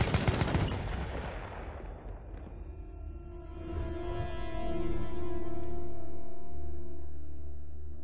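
Battlefield 1 gameplay with a burst of rapid machine gun fire up front that decays into a lingering rumble and distant battlefield hum, no talk.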